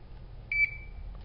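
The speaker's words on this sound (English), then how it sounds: "hold in the reset button until it gives a beep" A single short electronic beep from an MSA Solaris gas monitor as its reset button is held, clear and fairly close, ringing briefly before fading into a quiet hum.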